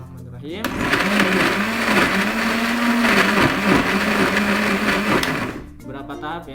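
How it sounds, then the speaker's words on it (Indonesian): A kitchen blender whirs loudly, blending ingredients for homemade liquid organic fertilizer, a steady high-speed motor drone that starts abruptly and cuts off after about five seconds. "sementara kita akan memblender bahan ini. Oke, kita blender."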